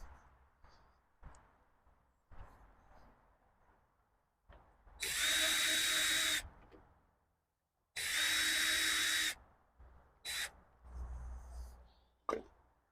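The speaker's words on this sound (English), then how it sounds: "I need the drill again." A power drill works on a greenhouse door in two sustained, loud whirring bursts separated by a pause, with quieter knocks and handling sounds before and after.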